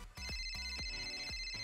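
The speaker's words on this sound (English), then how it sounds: "Oh my god, wait, my phone's ringing." A mobile phone ringtone rings loudly and close by, a repeating electronic melody of short bright tones that pulses steadily through the whole moment, with no voices over it.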